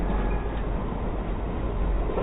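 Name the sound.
train running during driver training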